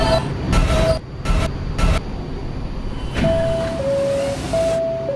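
A D train in a Roblox subway game rumbling along, with repeated bursts of wheel and track noise, then a steady tonal whine from the motors rising and shifting in pitch.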